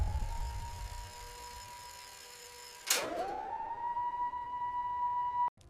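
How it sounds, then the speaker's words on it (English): An air raid siren over wartime North Vietnam holds a steady wailing tone, drops suddenly, then rises again to a sustained, piercing wail that cuts off abruptly at the end; no voices. "The first air raid siren changed everything."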